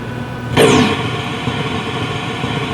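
A Star Trek arcade game's phaser effect, played from a Sega G80 board during a sound test, gives one loud descending sweep, then a steady hiss of white noise trailing on under a constant electronic hum.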